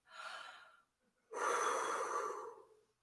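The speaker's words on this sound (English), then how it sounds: "Breathe in." Two deep breaths taken during a morning stretching warm-up with arms raised, a shorter intake followed by a longer, fuller one after a brief pause, close and fairly loud with no talk.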